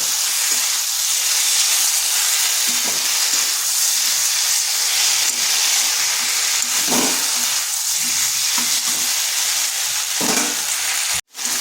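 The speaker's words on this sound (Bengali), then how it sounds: "মশলাটাকে বেশ কিছুক্ষণ এইভাবে কষে নিতে হবে।" Spice paste with Kashmiri chilli powder frying in a pan, a loud and constant hissing sizzle with occasional stirring scrapes, close, ending in a sudden brief cutoff.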